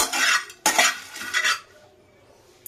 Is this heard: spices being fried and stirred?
yes